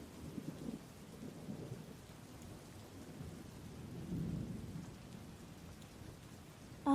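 Steady rainfall with soft rumbles of distant thunder, one deeper roll swelling midway, a calm low wash of storm sound with no voices.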